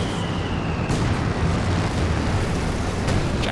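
An incendiary artillery barrage in Company of Heroes 2 lands among tanks, a loud continuous roar of explosions and burning rumble with a sharp crack near the start, on a World War II battlefield.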